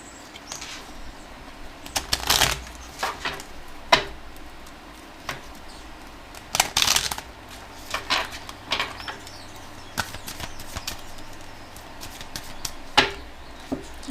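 A deck of oracle cards is shuffled and cut close by. Quiet papery riffles, flicks and taps come in irregular short bursts over a soft background.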